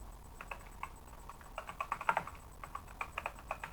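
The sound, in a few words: typing on a clicky computer keyboard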